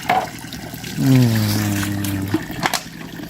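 Water runs from a village tap in Pasom Village, Laos, a steady trickling stream heard close by for a couple of seconds, with outdoor background noise and voices around it.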